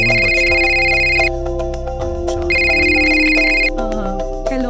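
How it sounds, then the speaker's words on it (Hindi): A mobile phone rings with a looping electronic ringtone melody, two repeated bursts of bright tones over a low, droning background. "उसका फोन बजता है।"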